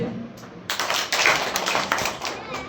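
A group of children in a rural primary school classroom clap on cue, a burst of sharp hand claps that swells and scatters across the room, with loud, near claps and some chatter mixed in.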